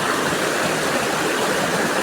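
A small mountain waterfall near Semeru flows in a steady, dense rush of falling water, constant and fairly loud from start to finish with no voices.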